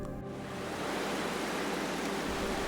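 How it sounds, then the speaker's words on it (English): Loud, steady rush of running water and waterfalls echoing inside a cave, a dense wash of noise that swells in after a brief moment and continues unbroken, an audio drama effect. "The sound of running water now echoed off the walls around us"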